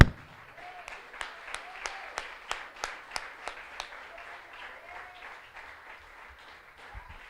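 A church congregation applauds in a Portuguese-language service, a dozen or so sharp, evenly spaced claps standing out over a softer patter of hands, fading out after a few seconds.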